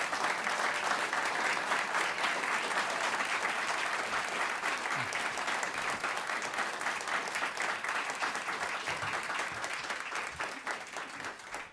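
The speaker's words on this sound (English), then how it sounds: "Let's give them all a round of applause." An audience applauds after a staged reading of an article, steady dense clapping that carries on for several seconds and slowly thins out toward the end.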